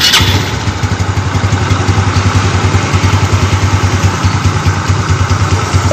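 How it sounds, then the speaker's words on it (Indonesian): A vehicle engine idles loudly and steadily up close during a radiator flush, with a continuous even throb and no talk over it. "Hidupkan lagi mesin buat membilasnya."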